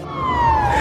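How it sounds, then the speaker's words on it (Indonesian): An ambulance siren in a film scene gives a loud, close wailing tone that slides slowly downward over a low rumble. "Namun tiba-tiba terdengar suara sirine."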